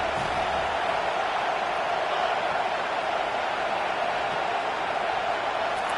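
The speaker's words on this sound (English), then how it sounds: "Listen to this crowd just shaking the girders of this place" A roaring stadium crowd in the NCAA 25 college football video game, a dense steady wall of cheering noise that holds without a break from start to finish.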